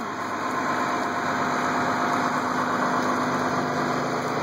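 A steady engine drone from lawnmowers, chainsaws and tractors runs throughout outdoors, a constant mechanical hum with no break, loud and close.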